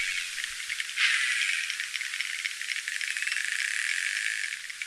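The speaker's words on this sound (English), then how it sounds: "What I'm hearing there are clicks and then like a cry." Underwater recording of a young male narwhal, a steady dense crackle of clicks with a brighter cry-like burst near the start, played back fairly faintly with no voices.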